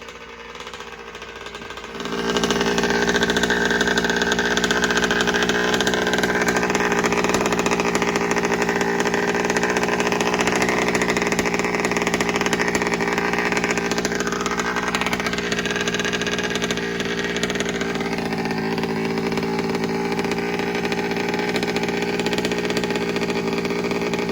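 A small 55cc gas engine on an RC dragster runs steadily and loudly for a long stretch after starting up, its buzzy drone holding a constant pitch with slight wavering.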